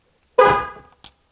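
A horn chirp from a 2007-2017 Jeep Wrangler JK locking with the key fob: one clear, near honk that fades over about half a second, followed by a brief fainter chirp.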